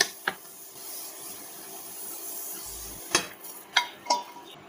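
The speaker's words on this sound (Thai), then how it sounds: "มาผัดแครอทต่อเช่นกันค่ะแป๊บเดียวนะคะพอให้ผักของเราใสแล้วก็นุ่ม" Carrots being stir-fried in a pan give a soft, steady sizzle with a few sharp clacks of a utensil against the pan, heard near and fairly quiet with no talking.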